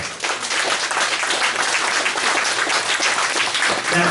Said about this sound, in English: Guys, give him a round of applause for that.